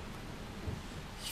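Rain and rumbling thunder in the video game Far Cry 3, a steady broadband wash of rainfall with a low rumble swelling near the middle, faint and continuous throughout.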